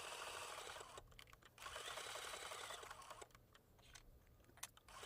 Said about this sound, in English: I'll finish up sewing down this apple applique with you.